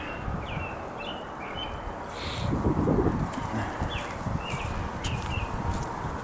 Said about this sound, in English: That bird's loud.